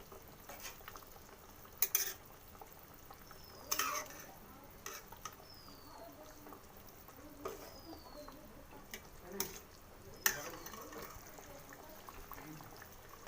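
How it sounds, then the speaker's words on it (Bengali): Hilsa pieces are turned over in a pan of Bengali mustard curry, giving scattered soft scrapes and clinks of a utensil against the pan, with faint sizzling underneath and no talk. "মাছটাকে একটু উল্টে পাল্টে নেব।"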